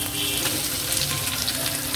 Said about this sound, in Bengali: আমার পেঁপে ভাজা হয়ে গেছে